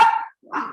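A dog gives two short, loud, close barks separated by a brief pause.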